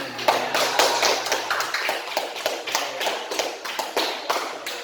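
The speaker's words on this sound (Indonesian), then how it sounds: "Ya, tepuk tangan." Classroom applause from students, a fairly dense run of hand claps lasting several seconds at close to moderate distance, with no speech over it.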